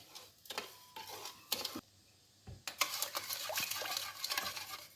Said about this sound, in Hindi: इसको मैं अच्छे से मिक्स कर लूँगी।